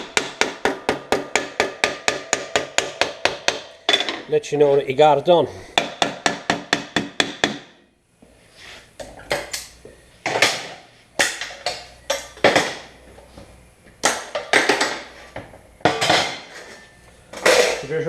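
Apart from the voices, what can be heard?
hammer bending sheet metal flange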